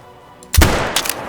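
A single loud rifle shot in the hunting game Call of the Wild cracks out close after a quiet moment and rings off in a long rumbling tail.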